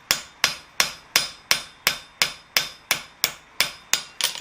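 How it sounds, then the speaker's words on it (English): Small lightweight cross peen hammer tapping forged steel flower petals on a blacksmith's anvil: eleven crisp, evenly spaced metallic strikes at a steady rhythm, close and alone. "that's with a much smaller cross peen, a little lightweight one"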